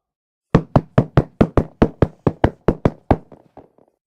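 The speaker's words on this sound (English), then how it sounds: "We gorillas like to pound on our chests to show how strong we are." Gorilla pounding on its chest, about a dozen sharp, hollow thumps in a quick, even rhythm, loud and close, tapering off into a few softer beats at the end, with no voices.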